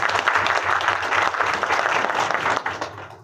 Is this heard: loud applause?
yes